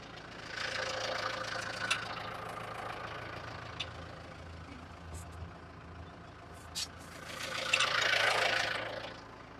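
A tractor engine runs steadily while driving a Bush Hog 286 rotary cutter through its rebuilt slipper clutch, a broad mechanical drone that swells louder as the revs climb near the end.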